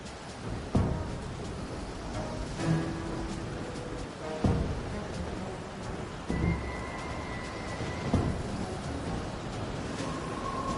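A stormy lighthouse scene in the video game A Fisherman's Tale, with a steady wash of rain and wind broken by several dull low booms of thunder at intervals.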